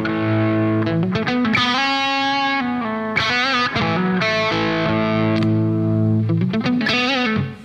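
Electric guitar played through a Mr. Scary amp head with gain and distortion turned down, mild crunch and effects, sustained chords and riffs ringing out loud and close.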